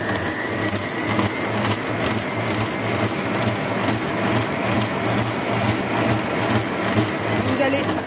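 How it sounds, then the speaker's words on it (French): A kitchen blender purées potatoes for hachis parmentier, its motor whirring loudly and continuously with a gritty, churning grind throughout. "Donc je vais utiliser directement mon blender, mon robot."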